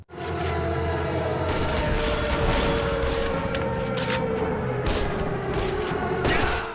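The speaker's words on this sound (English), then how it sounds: "more enemies about, more explosions." Dense, continuous gunfire and explosions fill a busy combat scene in the 2003 action video game Armed and Dangerous, with rapid bursts and booms layered over a steady loud roar throughout.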